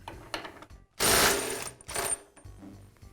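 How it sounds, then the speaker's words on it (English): An impact wrench removes the cutter head pulley nut on a DeWALT planer. A short loud mechanical whirring burst is followed by a second burst after a brief pause, with quieter clicks and handling noises around them and no talking. "I'll use an impact wrench to do that."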